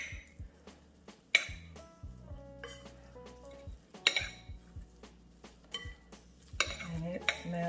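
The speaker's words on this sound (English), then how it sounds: "and then we will stir." A spoon stirs corn salad with sour cream and mayo in a bowl, giving quiet repeated scrapes and several sharp clinks against the side, close and uneven, with no talking.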